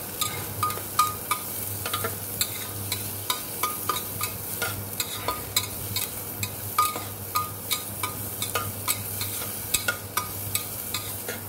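Sliced okra (bhindi) sautéed over raised heat in a pan, a steady frying sizzle punctuated by regular sharp scrapes and taps of a spatula stirring every second or so.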